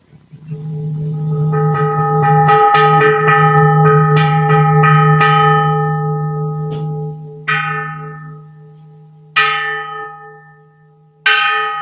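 A temple bell struck for the morning bell chant rings out with a long humming tone, then three more single strikes follow at intervals, each fading slowly, with no voices.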